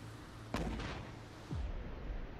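A mortar fires in the video game Cepheus Protocol, one sharp launch thump and then a second lower boom, both moderately close over a quiet background.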